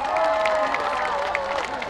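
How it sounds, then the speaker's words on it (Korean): A large crowd at an outdoor flower festival on the Hwangnyong River claps and cheers briefly, moderate applause with some voices and a lingering musical tone beneath. "다시 한번 큰 박수 부탁드리겠습니다"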